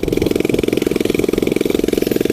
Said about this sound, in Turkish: Ve motor çalıştı arkadaşlar çok şükür